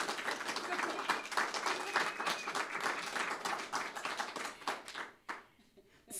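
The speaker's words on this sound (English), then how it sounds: "I think this deserves a round of applause." A small audience at an Independent Green Party political event gives a round of applause. The quiet clapping is dense and uneven, then thins out and fades in the final second.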